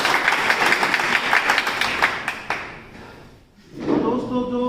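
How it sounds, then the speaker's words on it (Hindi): At a Golden Life Marketing product event in India, a crowd claps enthusiastically for a couple of seconds with distinct crisp claps, then the applause fades out and a voice begins speaking. "उनके स्वागत के लिए जोरदार तालियां चाहूँगा"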